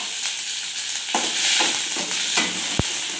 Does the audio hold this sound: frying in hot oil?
yes